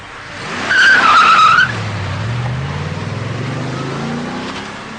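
A Tatra's 3.5-litre air-cooled V8 drones and revs as the car drives past, with a brief tire squeal early on, loud and close.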